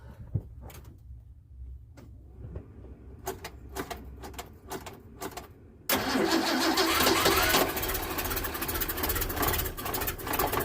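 A Ford Mustang engine, leaking fuel, cranks on a cold start with a few short bursts, then catches and roars into a loud, steady run that keeps going to the end.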